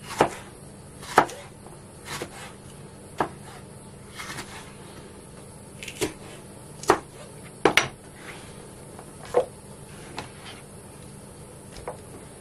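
A knife chops Florina peppers on a board in a home kitchen, giving irregular, close knocks spaced about a second apart, some in quick pairs.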